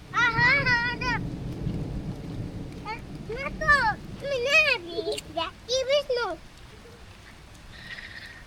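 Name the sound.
rain falling in a village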